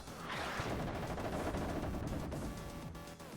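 Rapid bursts of small-arms and machine-gun fire crackle continuously from units in the real-time strategy game WARNO, a dense battlefield clatter with a few heavier booms mixed in, no talking.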